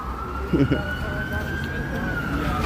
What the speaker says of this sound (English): Comes some sirens here.